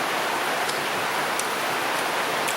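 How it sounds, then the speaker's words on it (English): Steady rain falling outdoors in Jamaica, a continuous even hiss of drops with no voices over it. "It's a shame it's raining."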